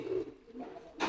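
A pigeon coos close by: two soft, low throaty calls with a short pause between, heard alone without any talk.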